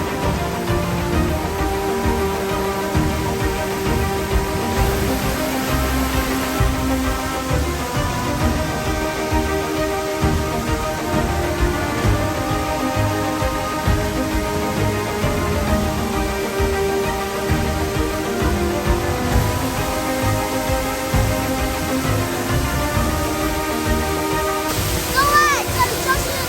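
A large, high-volume waterfall in the Manyueyuan National Forest Recreation Area roars in a constant heavy rush, with a voice and faint tonal sounds laid over the continuous spray.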